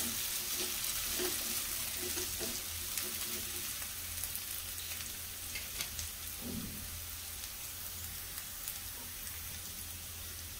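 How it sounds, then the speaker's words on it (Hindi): Onions sizzle in oil in a pan as the base for sago upma, a steady close frying hiss with small pops and no voices. "पियाज को हमें टिके अल्प भाजीबा बेसी गोल्डन ब्राउन करबानी अल्प भाजीबा टिके टिके"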